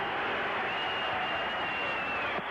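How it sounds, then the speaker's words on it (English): Steady, dense crowd roar fills a football stadium during an NFL game between the Denver Broncos and San Diego Chargers, a continuous wash of noise with no breaks. "Morton wants the crowd to hold it down"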